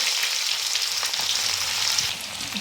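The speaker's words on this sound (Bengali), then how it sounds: "ভালো করে একটু ভেজে নেব।" Sliced onions and black cumin seeds fry in hot oil for a Bengali egg and potato dish, a loud, dense, steady sizzle with faint crackles throughout and no talking.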